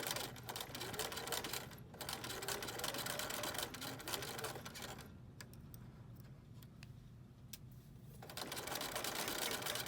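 A sewing machine runs steadily stitching a fabric face mask, with a rapid mechanical ticking and whir, easing slightly in the middle before picking back up, close and fairly loud.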